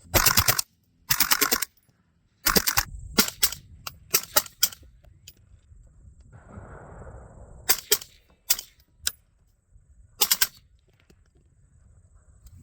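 Several short bursts of muffled automatic gunfire from a suppressed rifle, an Otter Creek Labs Infinity 30 suppressor, each a rapid string of sharp cracks, separated by pauses with quieter clicks and rustling between.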